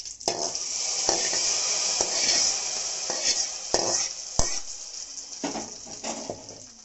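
Curry leaves crackle and sizzle in hot oil for uluva pulingari, a close steady frying hiss broken by sharp spatters and metal utensil scrapes and knocks against the pan.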